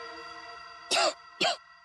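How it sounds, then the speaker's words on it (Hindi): Two sharp, harsh tuberculosis coughs in quick succession, close and loud, over a faint steady background hum. "ये कोई आम खांसी नहीं, टीबी वाली खांसी है"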